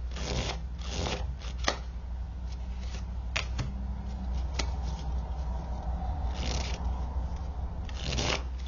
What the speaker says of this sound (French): J'ai l'impression que mes cartes sont toutes à l'envers. C'est pas grave, je vais les remettre à l'endroit.